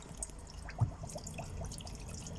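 Water pouring through a caravan sink tap, a soft trickling and dripping stream running steadily at low level with a few brief splashes, no voices.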